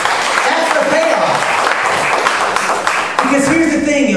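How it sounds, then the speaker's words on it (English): Audience applause during a political speech in Whittier, California, a dense steady wash of clapping filling the room, loud and continuous with a brief dip near the end. "you can applaud that"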